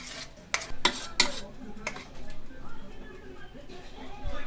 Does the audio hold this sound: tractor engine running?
no